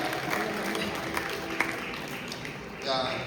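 Wedding congregation clapping for the bride in a church ceremony, a sustained crowd applause under a speaking voice, with cheering and a brief swell near the end.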